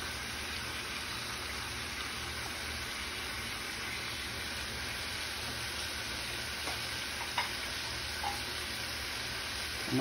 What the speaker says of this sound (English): I'm gonna add my thyme, my sweet onions